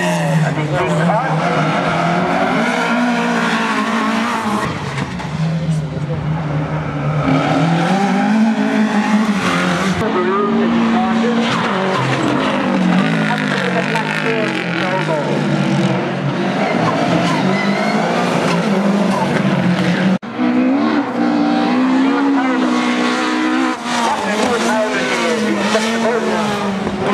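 Rally cars race along a stage at the Rally of the Lakes, their engines roaring loudly and continuously, pitch rising and falling through gear changes, with occasional tyre squeal and voices talking underneath.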